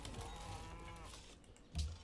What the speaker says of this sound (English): I like how the cows are just mooing in the background of this entire stream.